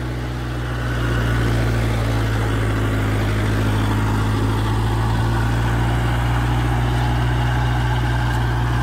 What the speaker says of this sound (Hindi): तो पांचवी फाट चल रहा है रोटावेटर लेकर ना ट्रैक्टर